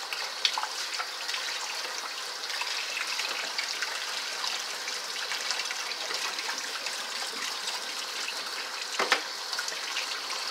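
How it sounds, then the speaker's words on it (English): Running tap water splashes steadily over hands being washed at a kitchen sink during meal preparation, a soft continuous trickle and gush with a brief louder splash near the end, no voices. "make sure that you wash your hands to prevent cross-contamination."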